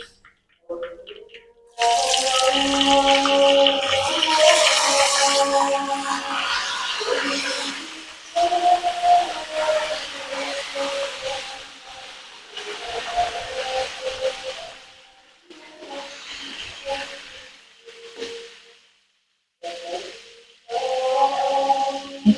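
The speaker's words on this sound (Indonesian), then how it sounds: "Kita goreng tempenya dulu." Tempe frying in hot oil gives a loud, steady sizzling hiss that swells and bubbles, then breaks into shorter, quieter bursts with brief gaps.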